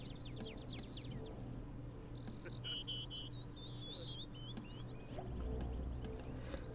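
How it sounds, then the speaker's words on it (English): Bird chirps from The Sims 4 video game: quick, high tweets and trills repeat in bursts over a steady low ambient background, fairly faint and with no talking. "Good lord, those birds."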